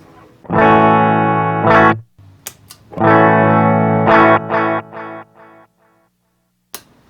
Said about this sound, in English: Now the Donner, which is this guy right here, I think sounds closest to the DD3